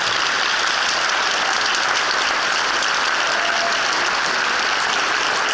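Steady, dense audience applause fills a prize-giving ceremony for the 2012-2013 Challenge de l'Andelle, continuous and fairly loud throughout with no voices over it.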